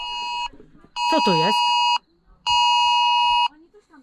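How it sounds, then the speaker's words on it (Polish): A phone emergency alert sounds a warning about a bear nearby: three loud, steady electronic alarm tones, each lasting about a second with short gaps between them. A person speaks briefly over the second tone. "I taki alarm."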